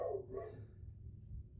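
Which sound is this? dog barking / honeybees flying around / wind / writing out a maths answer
dog barking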